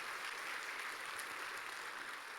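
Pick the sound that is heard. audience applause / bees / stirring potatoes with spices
audience applause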